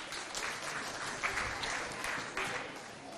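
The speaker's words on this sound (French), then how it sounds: "On l'applaudit bien fort." Audience applause in a school hall at a provincial school contest, a steady mid-level wash of clapping that swells briefly and holds for a few seconds.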